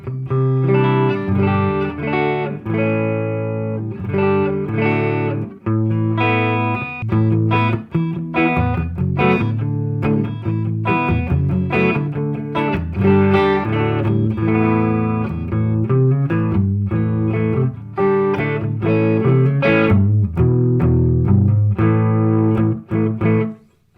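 An Oscar Schmidt OS50 SG-style electric guitar on its neck pickup plays through a Fender Tone Master Deluxe Reverb amp, a continuous loud run of picked notes and chords with a warm, slightly driven tone, no talking.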